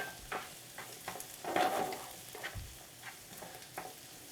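Garlic and carrots sizzling in a stir-fry pan for a vegetable stir-fry, a soft, steady crackle with occasional brief stirring scrapes, quiet and close with no talking.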